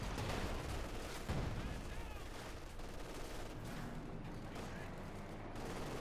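StuG III assault guns bombard during a Company of Heroes 2 battle, with dense, continuous gunfire and heavy blasts rolling loud and unbroken across the whole stretch.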